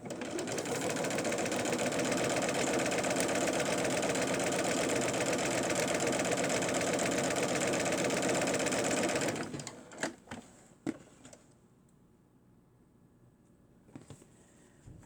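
A home sewing machine runs steadily for about nine seconds, stitching a seam up close, then stops, leaving a few clicks and handling taps before near-quiet.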